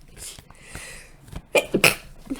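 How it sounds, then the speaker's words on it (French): A person's sneeze bursts out over a quiet room after some faint throat sounds, a short sharp series of loud close breathy explosions near the end. "je me demande si je ne vais pas éternuer"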